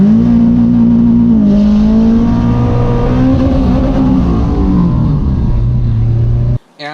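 An Acura RSX with an H22 engine accelerates hard on a race track. The loud, close engine note climbs in pitch through several gear changes before cutting out suddenly.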